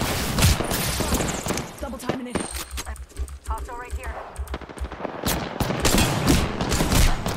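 Rapid automatic gunfire in the video game Apex Legends, with dense bursts of loud, close shots that pause briefly midway and then resume, while a player talks over the action.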